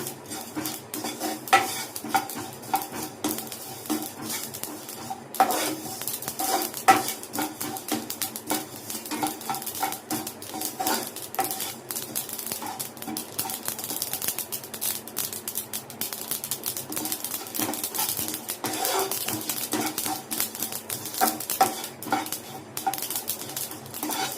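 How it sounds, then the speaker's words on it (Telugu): Sesame seeds frying in a pan over a medium flame, giving a steady, busy clatter of stirring and scraping against the metal with a soft crackle, continuous and close throughout, with no talking. "నువ్వులు ఇది కూడా మీడియం ఫ్లేమ్లోనే ఫ్రై చేసుకోవాలండి."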